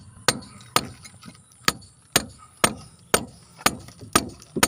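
Hammer blows on a chisel cutting into a house wall during home renovation, about ten sharp, loud impacts at a steady, roughly half-second rhythm, each ringing briefly before the next strike.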